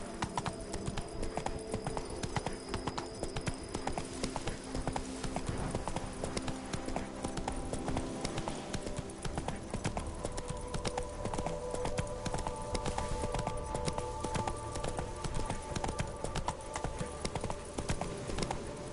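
A horse gallops in the Witcher 3: Blood and Wine expansion, with rapid, steady hoofbeats drumming continuously at close range alongside game sounds, and no talking.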